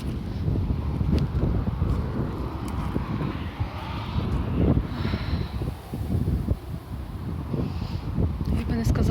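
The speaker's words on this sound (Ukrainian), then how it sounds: "Все ж таки вітер дує." Wind gusts buffeting outdoors, a rough low rumble rising and falling throughout, with faint distant background noise.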